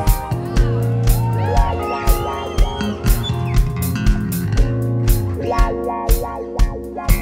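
A gospel concert audience claps in steady, evenly spaced beats over loud live band music, with some crowd voices.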